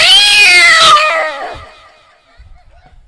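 A voice imitates cats caterwauling: a loud, drawn-out wailing yowl for about a second that trails off and fades into near silence.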